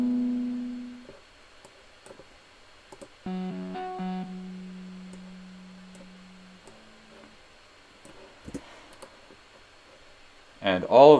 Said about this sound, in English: this is the guitar from the original song that I just kind of use as impacts and reverses.